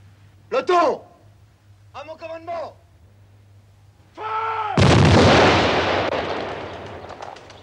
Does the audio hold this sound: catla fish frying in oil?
no